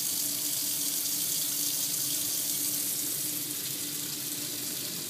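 Hot water tap running from a Keston C36 combi boiler, a steady hissing gush of water pouring continuously at close range, with no talking.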